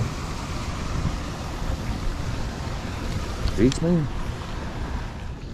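A waterfall and moving river water in downtown Rochester, Minnesota, heard from a kayak. The water makes a steady, full rushing wash throughout, and someone speaks briefly over it.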